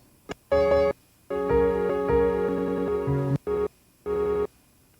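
Choppy electronic audio from a Roland SP-404 MKII sampler's scatter effect, sliced into bursts of harmonic tones, stopping and restarting in uneven fragments with silent gaps between.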